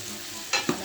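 Onions frying in a pot with fish seasoning give a soft, steady sizzle, with a couple of brief close stirring scrapes near the end.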